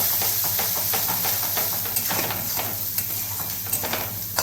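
A spoon stirs red chili powder into egg curry in a hot pan, with steady sizzling and hissing under scattered scraping taps close by.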